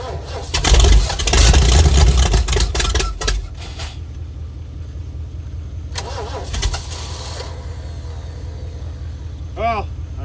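Ford 460 V8 with Duraspark ignition, run on the ground outside a vehicle, roaring loudly for a few seconds then dropping to a steady rough idle, with people talking nearby.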